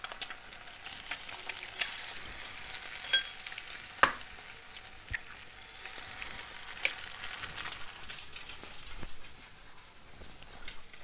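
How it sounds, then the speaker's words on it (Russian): Quiet, steady frying crackle of an egg in a pan over low heat, with small pops and occasional clinks, fairly soft and without voices. "вбиваю сюда в сковороду яйцо"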